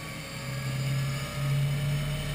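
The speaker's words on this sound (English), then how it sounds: "Here's why you don't stand behind an unlimited at ignition" An unlimited hydroplane race boat at the 2012 Columbia Cup in Tri-Cities, Washington, fires up its engine into a loud, steady turbine whine with a low droning hum and a slight swell in volume.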